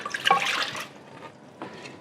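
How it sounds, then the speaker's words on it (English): Water splashes and gurgles into a big bowl holding salt and sugar for soft pretzel dough, a close pour that tapers off, then a brief second splash. "You put in the water."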